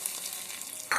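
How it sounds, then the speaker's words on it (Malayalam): Mustard seeds fry in hot oil as a tempering for jackfruit puzhukku, a soft continuous sizzle with faint crackles, close but quiet. "കടുകും വറുത്തിടാം."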